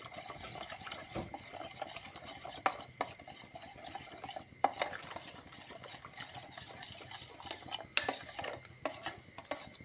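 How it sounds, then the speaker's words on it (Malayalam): Ragi flour being stirred into water to a smooth, lump-free mixture, with steady scraping and clinking of a spoon against a vessel, close and continuous without pause. "അതിന് റാഗിപ്പൊടി കലക്കിയെടുക്കുക."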